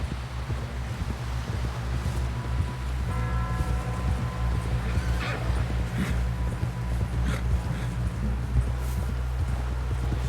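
Hoofbeats of a horse ridden at speed in Red Dead Redemption 2 thud in a steady clip-clop rhythm, fairly loud and continuous over a low rumbling game background, with some game-character speech.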